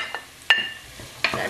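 Garlic and onions frying in a pan during soup preparation, with three short bursts of scraping and sizzle at irregular intervals over a quiet low background.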